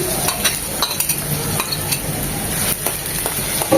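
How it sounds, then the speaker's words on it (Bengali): Chopped onion hits hot oil with whole spices in a pan for a tomato-potato egg curry, giving a steady close sizzle broken by scraping stirs and light clinks of a utensil against the pan. "গোটা মশলাটা তিরিশ সেকেন্ড ভেজে নেওয়ার পর দিয়ে দিচ্ছি একটা বড় পেঁয়াজ কুচি"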